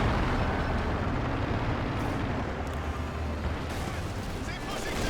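A Sexton self-propelled artillery gun in the Company of Heroes 2 battle game firing amid a dense, loud rumble of shelling and explosions, with gunfire mixed in and a commentator talking over it.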